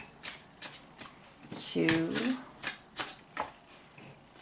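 Oracle cards from a Messages of Love deck being shuffled and drawn, with a riffle of card flutter in the middle and soft taps around it, heard close under a woman's speech.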